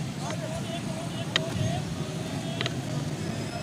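Road traffic rolls past behind a man standing halfway into a street, a steady low roadway rumble running throughout under his ongoing speech, with a few brief higher clicks.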